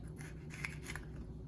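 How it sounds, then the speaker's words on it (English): A knife slices the ribs out of a bell pepper in a home kitchen, giving a few soft, quiet crisp cuts close by over a low hum. "And now you can cut the ribs out."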